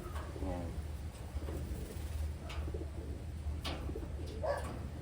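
Pigeons coo softly and repeatedly among birds in a loft, with a steady low hum beneath and someone talking over them; the birds are white-flight Wantai pigeons with sealed leg rings.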